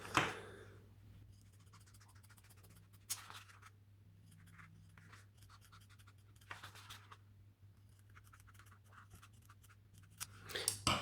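Scissors cut out a traced piece of material for a bike prosthesis, with a few scattered scraping, snipping bursts separated by quiet gaps over a low steady hum.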